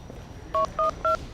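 Telephone keypad dialing tones: three short, loud, evenly spaced beeps in quick succession, with no voices.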